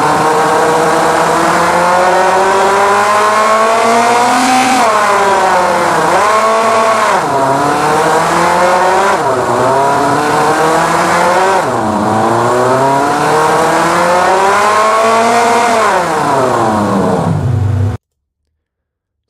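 A synthesized car engine from the Krotos Igniter plugin revs up and down repeatedly, pitch sweeping through smooth rises and falls, loud and close with no talk, then cuts off abruptly.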